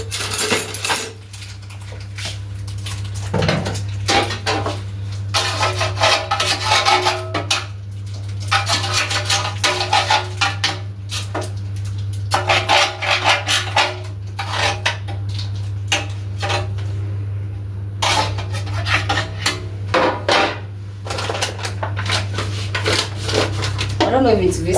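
A spoon scrapes and clinks against a bowl while cake batter is mixed with margarine, irregular knocks and rattles at close range with a steady low hum beneath and people talking throughout.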